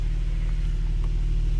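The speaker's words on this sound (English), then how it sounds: "Car's moving forward." Kia Stinger idling and creeping forward in drive after a shifter assembly replacement, a steady low engine rumble close by, even and unbroken with no voices.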